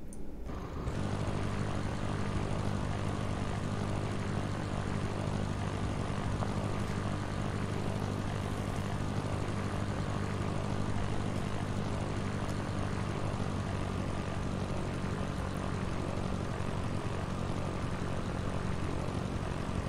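A single propeller aircraft engine, a Cessna in the Sierra Pro Pilot flight simulator game, drones at a steady even pitch throughout, loud and constant with no breaks.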